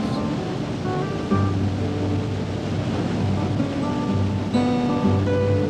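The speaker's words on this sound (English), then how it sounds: "the morning sun prisms the spray at the bottom of this famous waterfalls called Rainbow Falls" Continuous roaring rush of Rainbow Falls in Hawaii, broad and steady, with faint tonal hum underneath and no speech.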